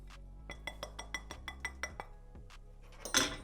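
Warm milk being mixed with salt, yeast and sugar in a bowl for homemade burger buns, heard as a steady series of light clinks and taps of a utensil against the bowl, close by, ending in a louder scrape.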